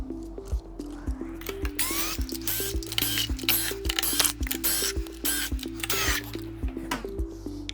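A screwdriver backing out the eight 3 mm screws that hold the top cover of an Inmotion P6 scooter, heard as a string of small, close, sharp clicks over a faint tonal background.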